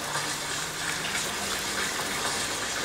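A character in Animal Crossing: New Horizons swims through sea water, a steady gushing, splashing wash of water filling the whole stretch, no voices.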